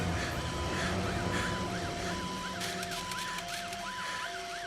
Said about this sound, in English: It rolls into his room with the siren turned on.